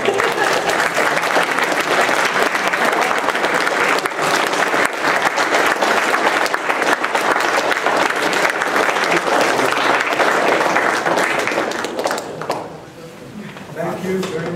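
Students at a computer science banquet applaud their sponsors and families with loud, sustained clapping from a large crowd. A few voices mix in before the applause drops off near the end.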